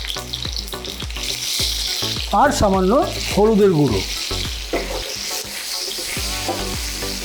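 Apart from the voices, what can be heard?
potatoes frying in hot oil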